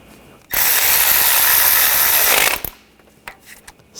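A ratchet or power tool tightens a bolt on a Nissan Rogue 2.5L alternator bracket, one loud, steady two-second burst of rapid whirring clicks, followed by a few light metallic taps.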